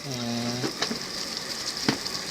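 Squid with black pepper sauce sizzling and bubbling hard in a pan over high heat, a steady close fry with a short tonal hum early on and a few sharp clinks.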